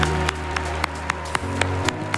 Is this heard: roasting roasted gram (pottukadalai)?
no